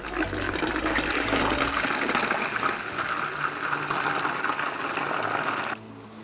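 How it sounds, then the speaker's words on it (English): Water pours steadily through a funnel into a container, a continuous close splashing gush for about six seconds before it thins out near the end. "I'm going to just take the water, then I put it into the container through the funnel"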